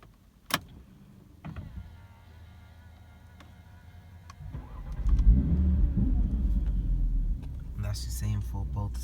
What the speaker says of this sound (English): the wind mirrors go outwards.